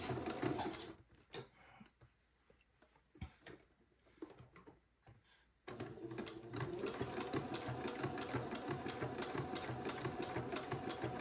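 A sewing machine runs a second zigzag pass, stitching entredeux into the fold of white fabric for a boy's button-on suit; after a few short bursts and pauses it settles into a steady, close, continuous whir of rapid stitching.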